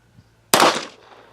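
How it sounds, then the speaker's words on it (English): A single sharp, loud Makarov pistol shot at an outdoor shooting range, an abrupt crack followed by a quick fading ring-out, with no voices. "Let's shoot the big target first."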